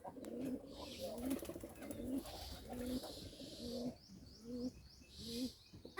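Pigeons coo repeatedly in a village loft while the birds bathe in fresh water on a hot, sunny day. The soft, rhythmic coos come about once a second, each a low, rolling call, with faint chirps around them.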